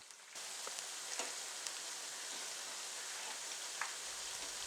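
Mushrooms fry in a pan for a spicy roadside-style mushroom masala, giving a steady, even sizzle that runs through the whole stretch with a few faint pops and no voices.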